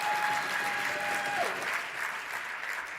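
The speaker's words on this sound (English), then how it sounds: "there's some smatterings of applause for owning the libs" Scattered audience applause at a conference, a steady patter of clapping from a crowd filling the room, with no voices over it.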